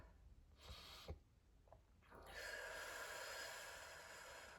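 A slow, deep inhalation during a guided meditation, with a few soft snorting breaths at the start and then a long, airy intake of breath, close and quiet.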